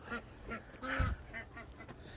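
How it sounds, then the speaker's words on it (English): Several ducks quack in agitated bursts at bedtime, a rapid series of nasal calls close by with one louder honk in the middle, no speech over them. "Listen to them ducks having a fit."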